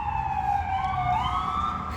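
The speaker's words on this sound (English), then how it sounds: "The ambulance." Ambulance siren wailing in a smooth rising and falling sweep, loud and close, alone for about two seconds over a low traffic rumble.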